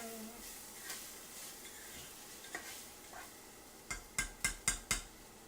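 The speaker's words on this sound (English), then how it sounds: "So stir this so it doesn't get. Don't want to overcook that garlic." Garlic sautéing in a pan with a soft, quiet sizzle, then a quick run of five sharp utensil scrapes and taps against the pan as it is stirred, close by, no talking.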